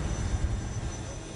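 Jet aircraft aboard the French aircraft carrier Charles de Gaulle, giving a loud, steady low roar for a moment with no talk over it.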